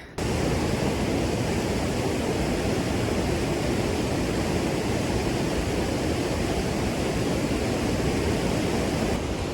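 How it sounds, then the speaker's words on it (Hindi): A mountain waterfall of clear water near a wooden bridge at Bugdiyar on the Milam Glacier trek roars as a dense, steady, unbroken rush of water close by. "ये झरना है ना, इसका पानी इतना साफ है बहुत ज़्यादा"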